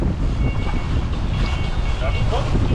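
Wind while a sailboat runs downwind off the west side of Kos toward Nisyros, a loud steady roar of wind buffeting the microphone with rushing water beneath, continuous and close.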